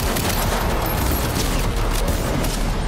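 A dense, continuous volley of pistol and other gunfire in the video game Cyberpunk 2077, loud and close with no pauses, like a sustained firefight.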